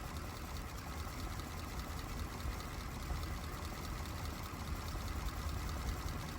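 A 1934 Ford V8 Victoria engine runs at a smooth, steady idle, its even low rumble continuous and unbroken.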